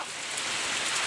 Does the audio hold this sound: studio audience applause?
no